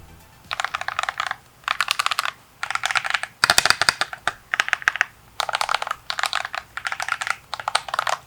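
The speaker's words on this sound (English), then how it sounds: "this is my keyboard" Fingers type on a computer keyboard in short bursts of rapid clicky keystrokes, with brief pauses between bursts, close and clear, no talking.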